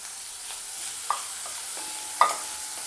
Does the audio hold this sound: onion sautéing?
yes